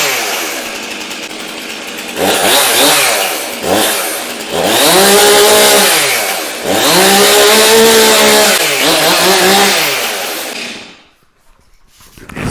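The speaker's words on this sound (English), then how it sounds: "The first look at the STIHL MS 400C chainsaw" A STIHL MS 400C chainsaw is revved hard and loud, close up. It climbs through several surging, sweeping throttle bursts between brief dips, then cuts off abruptly near the end.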